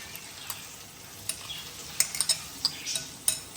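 Potato and chopped onion are tipped into hot tempering oil in a pan, frying with a soft continuous sizzle under scattered sharp utensil clicks and scrapes, no talking.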